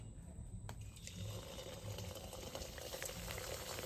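Sweets frying in hot white oil in a wok, a steady bubbling sizzle with a constant high hiss, close and fairly quiet, with no talking.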